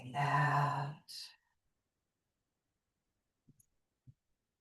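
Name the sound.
slow exhale during yoga breathing exercise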